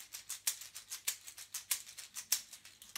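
A plastic egg shaker filled with macaroni rattles in a steady rhythm, bright gritty swishes with sharper accents every few strokes, close and fairly quiet.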